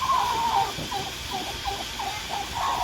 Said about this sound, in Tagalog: Lalabas muna natin itong inahin.